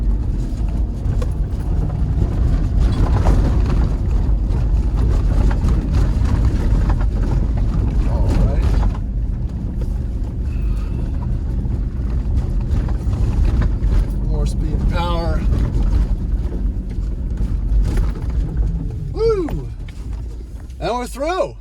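A Toyota Land Cruiser climbs a frozen cabin road, its engine droning loud and low throughout with rough buffeting noise, while voices talk over it toward the end.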